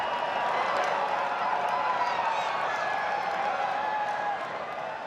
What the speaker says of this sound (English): There's not much calmness going on in that crowd though, Howie. Those Indian fans are going crazy.